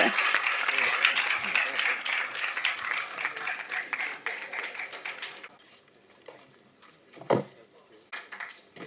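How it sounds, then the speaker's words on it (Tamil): Loud audience applause at a film trailer launch event, a crowd clapping vigorously for about five seconds before tapering off into a hall murmur with a few stray claps and a short voice. "பலத்த கரகோஷங்களுடன்"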